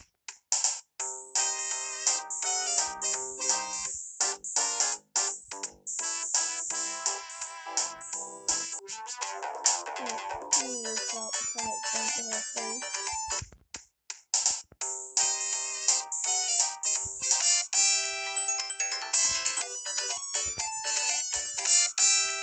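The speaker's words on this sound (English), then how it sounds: "When you hear that, that means you've got debug mode" Chiptune game music from Sonic 2 plays continuously with bright, rapid synthesized melodies and beeps, moderately loud and uninterrupted by speech over twenty seconds.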